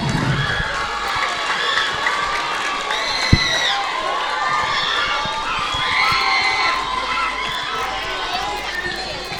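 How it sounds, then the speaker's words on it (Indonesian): An audience at a mini talk show on online and offline product sales cheers and claps to welcome the guest speaker, a steady, busy crowd din with shouts lasting throughout, plus one sharp knock midway. "Tepuk tangan dulu untuk narasumber kita"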